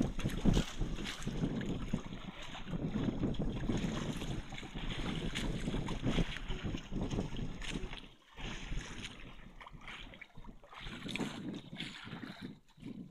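Strong wind buffets the microphone in gusty rushes, roaring continuously with brief lulls, while water sloshes faintly in the background.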